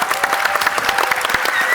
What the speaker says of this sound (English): first I want a big applause for Mirena, who's here, is the ambassador of El Salvador